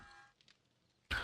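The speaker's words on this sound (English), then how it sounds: "sorry, I had to clear my throat" A person clears their throat once, a short loud burst at the very end after near silence.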